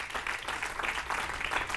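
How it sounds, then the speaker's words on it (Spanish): A church congregation applauding during a Spanish-language sermon, a steady wash of many hands clapping together at moderate distance, continuous for the whole moment with no speech over it. "Den un aplauso al Señor, amén."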